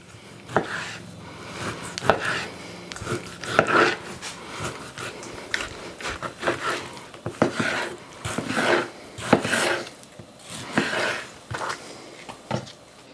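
A knife cuts pork meat and fat into pieces for sausage grinding, giving irregular close-up slicing and chopping thuds with some rubbing noise in between.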